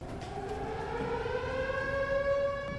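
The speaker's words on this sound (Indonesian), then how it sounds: "ketika mendengar suara sirine tanda bahaya" A wailing air raid siren holds a steady rising tone, sounding continuous and fairly distant with no voices.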